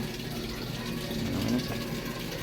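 A Samsung top load washing machine fills with water, giving a steady, moderately loud rushing flow that holds constant throughout.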